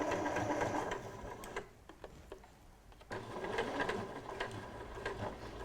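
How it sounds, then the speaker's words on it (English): A sewing machine hums steadily as it stitches close along piping cord on a cushion, the motor whirring near and loud, pausing briefly midway before running on again. "you're stitching as close to the cord as you can"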